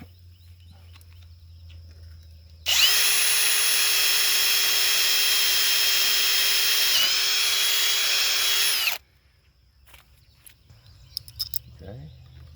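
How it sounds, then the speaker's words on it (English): A power drill whines steadily for about six seconds at close range, drilling a bolt hole in a rigid PVC gate, its pitch dipping briefly midway, then stops; quiet handling noises follow. "then we're going to drill our hole"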